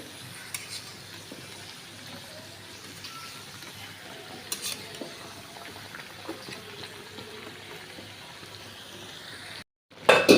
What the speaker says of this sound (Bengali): তো আমি এখন ছেড়ে দিব আলু আর পটল, এটাকেও ভালো করে কষিয়ে নিব এটার সাথে।